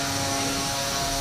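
A 30lb combat robot's spinning weapon at a robot combat event gives off a loud, steady jet-like whine that fills the whole stretch without a break.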